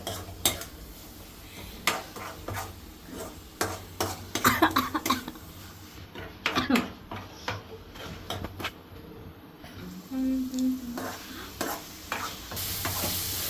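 A spoon stirs chicken fry in a pan at home, giving irregular scraping clinks and knocks against the metal over a soft, steady sizzle of frying. A brief cough cuts in once, and a faint hum drifts in the background.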